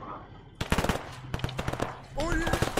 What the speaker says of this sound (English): Careful, we're taking fire at this ridge.